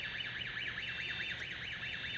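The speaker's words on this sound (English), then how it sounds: "when you turn on the key, you're going to get your alarm. There's the alarm I told you about." Startup alarm of a Lift Hero CPD30 6,000 lb electric forklift, a steady warbling electronic tone sweeping up and down in a regular rhythm, loud and close, continuous throughout with no talking.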